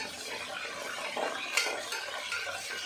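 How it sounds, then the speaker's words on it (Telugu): Curry leaves stirred into hot oil for Telugu bitter gourd pulusu, giving a steady close sizzle with a few sharp spoon-on-pan scrapes and one brief louder clink, no voices. "తర్వాత కొంచెం కరివేపాకు వేసుకొని కలుపుకోవాలి."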